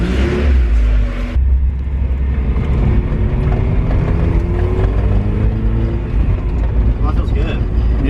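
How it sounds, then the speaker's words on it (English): A Mazda Miata on a test drive, its engine a loud, steady low rumble heard from inside the cabin, with road noise and a shift in tone early on; voices talk over the drive. "Time for a little test drive in the Miata."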